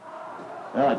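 A wrestling crowd at a Southern Championship Wrestling show at the Berkeley Cafe: a low murmur that swells into a short, loud burst of cheering and shouting near the end.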